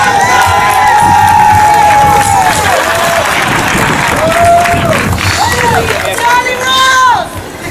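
Wrestling event crowd loudly cheering, applauding and shouting, with rising and falling yells over steady clapping, close and sustained until it drops near the end.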